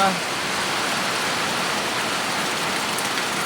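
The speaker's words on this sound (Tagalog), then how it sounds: "grabe ulan" Heavy rain pours down in a dense, constant hiss, loud and unbroken from start to finish.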